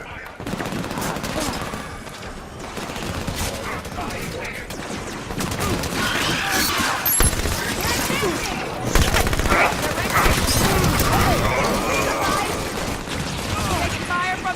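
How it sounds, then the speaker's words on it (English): Gunfire in the video game Halo 5: Guardians, a dense, continuous barrage of shots and battle effects that stays steady and loud throughout, with radio-style voices talking over it. "Taking fire from the stairs."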